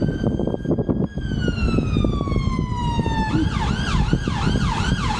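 An ambulance siren wails loudly nearby in Nottingham city centre, UK, a long descending tone that switches to a fast warbling yelp, over steady traffic rumble.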